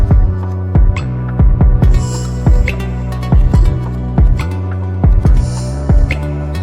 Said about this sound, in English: here's the kick I chose